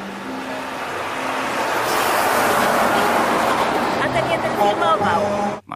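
A long container truck passes on the road, its engine noise swelling to a loud broad roar mid-pass and then fading, with some brief mechanical tones near the end.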